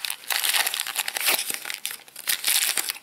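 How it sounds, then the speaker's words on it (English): Paper wrapping is torn off a Shopkins blind basket toy close up, making a continuous dry crinkling and crackling for a few seconds with no talk. "If I can get all of the paper off."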